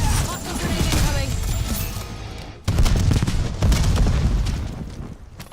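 Grenade blast in an online shooter game, a burst of loud booms and crackling gunfire with a second heavy hit midway, mixed under a player's voice.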